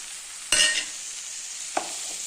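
Guava pieces dropped into a hot pan after sautéing, giving a sharp sizzling burst with a scrape, then a second brief clatter over steady frying hiss.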